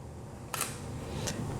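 Two crisp clicks of a single-lens reflex camera shutter firing, one strong and one lighter about 0.7 seconds apart, over a quiet room hush.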